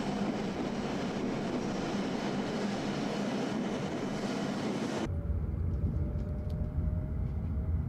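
A JR East train runs through Joetsumyoko station with a loud, steady rail rumble that shifts abruptly to a deeper, quieter drone partway through, with no voices.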